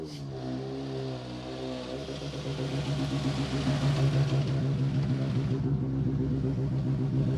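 A rally car driven hard on a stage of the Cambrian Rally in Conwy, Wales, roars steadily through its gears, the engine note rising and holding as it accelerates, fairly distant and unbroken by talk.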